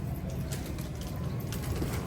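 Pigeons cooing in a steady low murmur among a group of birds, with constant background rumble and no clear pauses.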